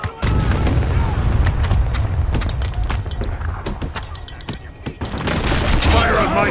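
Mortar and gunfire in the war shooter Spec Ops: The Line form a continuous loud barrage of booms, rapid shots and rumbling impacts, with a faint voice among the battle noise.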